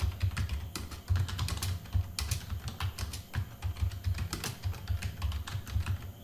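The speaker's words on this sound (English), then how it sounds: "let me type in" Steady, close typing on a computer keyboard, a quick irregular patter of key clicks with no talk over it.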